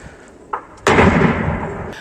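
A sharp, loud blast from mortar or automatic grenade launcher fire in Bakhmut follows a smaller pop and rolls on in a long rumbling decay.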